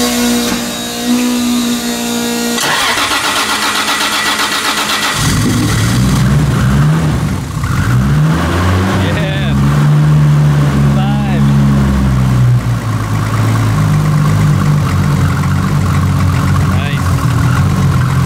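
A powerful Nissan Skyline R34 GT-R engine cranks and catches, then idles roughly and revs in loud bursts close by, continuing steadily to the end.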